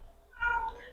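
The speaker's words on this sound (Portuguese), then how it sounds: "Minha gatinha tá aqui miando." A small house cat meows once, a short nearby cry in a quiet indoor room with no talking over it.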